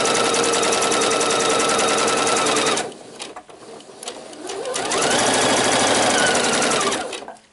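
Sewing machine stitching shirring elastic on a summer dress, a rapid, close mechanical chatter that runs steadily, stops briefly amid light handling noises, then starts up again at a slower pace.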